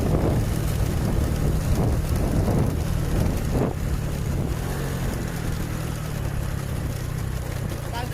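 A vehicle driving fast along a winding road, producing steady loud low engine rumble with heavy wind buffeting throughout, close and unbroken.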